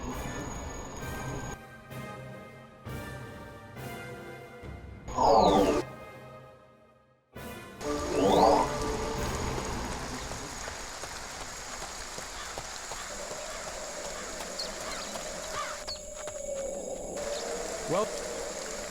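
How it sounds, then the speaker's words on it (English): Rain falling in the video game Two Worlds: Epic Edition, a soft steady patter that runs beneath intermittent game sounds and brief louder bursts, with a short silent gap partway through. "Rain again."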